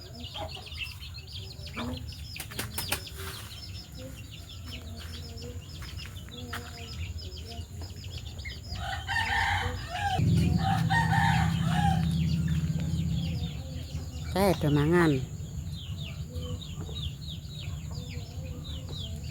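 Chickens cluck steadily nearby while a rooster crows loudly partway through; a person speaks briefly in Javanese over the birds.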